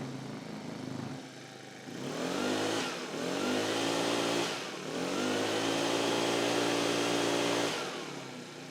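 A Honda leaf blower engine runs after a carburetor service, revving up in several rising and falling surges with a buzzy, close small-engine whine and no talk.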